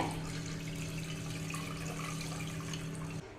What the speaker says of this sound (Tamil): நம்ம வந்து தண்ணி இந்த அளவுக்கு சேர்த்திட்டேங்க